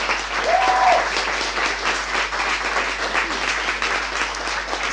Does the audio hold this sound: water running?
no